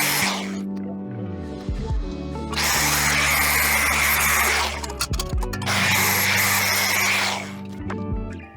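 Power tool sanding rust and sharp edges off metal pieces for a wrecked Toyota GR Supra rebuild, a loud steady grinding whine in two long bursts with brief pauses and spin-downs between.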